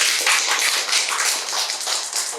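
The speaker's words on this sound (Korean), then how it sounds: "박수 한번 부탁드릴게요" An audience at a Korean novelist talk event applauds, a dense, steady burst of clapping heard close and continuous throughout.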